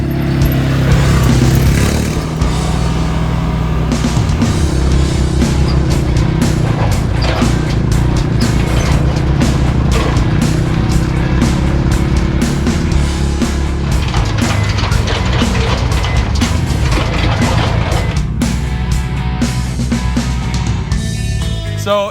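An ATV four-wheeler towing an overland trailer on a trail roars steadily up close, its engine note loud and continuous with rattles and bumps throughout and no voices.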